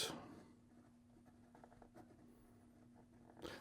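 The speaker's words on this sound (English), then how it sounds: "So here we go with the writing sample for the Sailor" A Sailor Compass 1911 fountain pen with a medium fine stainless steel nib writes on paper, producing faint, close scratchy strokes with short pauses between words, under a quiet steady background hum.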